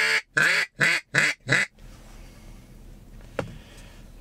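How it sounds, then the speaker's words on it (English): A handmade duck call is blown in five quick, evenly spaced loud quacks in a descending series, then quiet background with a single faint click. "I really, really like this duck call."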